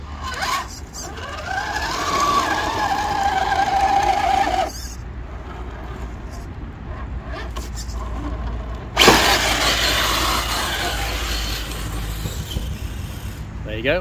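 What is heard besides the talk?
RC crawler with Hobbywing Fusion Pro brushless motor, wheels spinning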